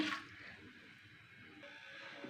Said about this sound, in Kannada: ಇವಾಗ ಸಾಂಬಾರಿಗೆ ಸ್ವಲ್ಪ ನೀರು ಹಾಕೋಣ